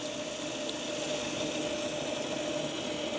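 A Fleischmann DMU model train with a traditional brushed motor runs smoothly, giving a steady, faint electric hum and whir with a thin high whine, continuous and alone.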